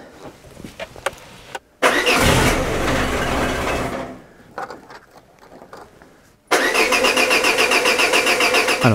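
A car's cold engine is cranked without the choke, catching in a loud rough burst that sputters and fades, then after some faint clattering it is cranked again and fires into a loud, steady, pulsing idle.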